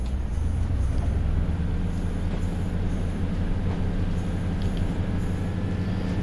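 Class 142 Pacer diesel railbus running from Ormskirk to Preston in Train Sim World 4: a steady, loud low rumble of engine and rails that holds throughout with no voices.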